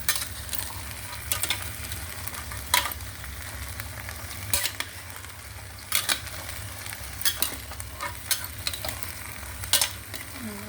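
Chickpeas frying and being stirred in a pan, with a steady sizzle punctuated by several sharp scraping stirs and utensil clacks spaced a second or two apart, close and moderately loud, no voices.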